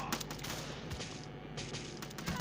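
Rapid gunfire in the Dead Ahead: Zombie Warfare game, a fast, tight string of shots crackling in quick succession at moderate, fairly quiet volume.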